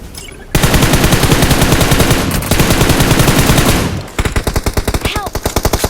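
Automatic gunfire in BGMI, a loud close fast burst lasting several seconds followed by a second, slightly slower rattling burst of distinct rapid shots.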